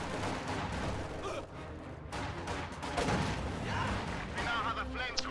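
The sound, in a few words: machine gun fire in a strategy video game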